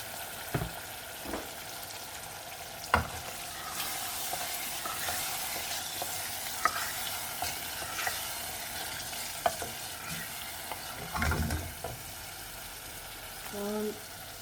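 Potatoes and rani fish frying in a curry pan, an even hiss of sizzling oil with occasional sharp stirring knocks and a faint voice near the end.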